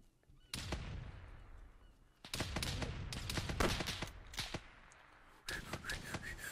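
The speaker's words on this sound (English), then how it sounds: "These bullets are getting close!" Gunfire in the ARMA 3 video game during a battle, with dense overlapping shots and bursts that crack loudly and nearly continuously after a brief opening lull, the fire rising and falling in intensity.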